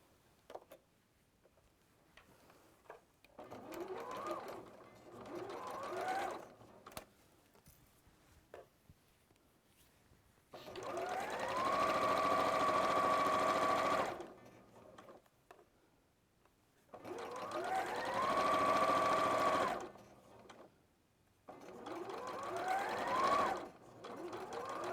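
Sewing machine stitching a dress seam, running in several bursts of steady, rapid whirring stitches with pauses between, two long runs in the middle, close and fairly clear, with faint voices in the gaps.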